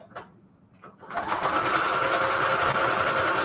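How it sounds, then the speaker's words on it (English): A home sewing machine runs a regular zigzag stitch, starting after a few faint clicks and then a continuous, fast mechanical whir, close and steady without talking. "Number 4 on my sewing machine."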